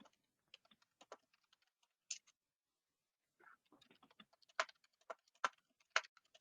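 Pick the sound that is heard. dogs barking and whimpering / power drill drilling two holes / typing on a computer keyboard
typing on a computer keyboard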